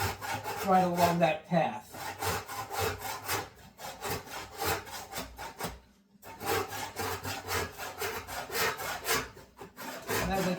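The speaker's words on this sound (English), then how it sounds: "the saw is just going to keep tracking right along" Hand saw cutting through a wooden board, with steady rasping back-and-forth strokes in a continuous rhythm, close and moderately loud, briefly pausing twice, with a few quiet spoken words.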